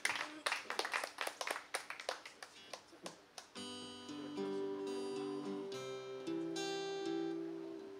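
Scattered hands clap in a small audience welcoming a singer at a folk music show, a few seconds of uneven claps before sustained instrumental music comes in.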